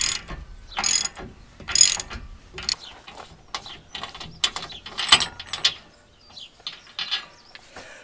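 A long wrench ratchets on a brake bolt with a series of sharp metallic clicks and clacks in irregular bursts, close and fairly loud, separated by short quiet gaps.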